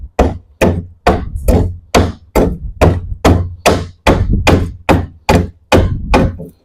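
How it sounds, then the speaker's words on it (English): A digger strikes into rotten wood on a bass boat transom, prying it off the fiberglass with about fourteen loud, close, evenly spaced whacks in a steady hammering rhythm. "you can see where I've got this digger, it makes it so I can get in the corner and get part of the wood started"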